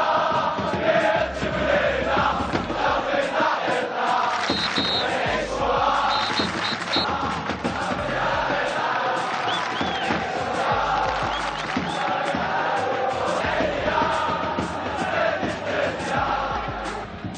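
Salé football fans in a stadium roar and chant together in a dense, sustained crowd wash, with rhythmic chanting voices and occasional whistles carrying throughout at a loud level.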